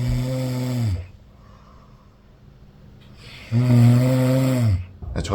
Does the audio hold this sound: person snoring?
yes